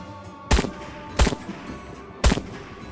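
Gunshots in the Trans-Siberian Railway Simulator video game: three sharp, loud single cracks spaced roughly evenly apart, each with a short reverberant tail, over a low steady background hum with no talking.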